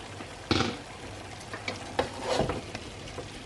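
Potatoes stir-fried in a pan for a cauliflower masala curry, with a steady low sizzle broken by a few sharper scraping and stirring bursts, heard close and alone.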